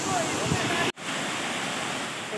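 Lavapani waterfall in Lohardaga pours with a dense, constant roar of falling water that fills the scene, with a brief cut partway through before the steady rush resumes.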